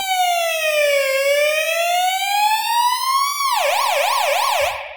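Synthesized siren sound effect, a loud continuous electronic tone that slowly rises and falls in a long sweep, then switches to a fast warbling wail before cutting off.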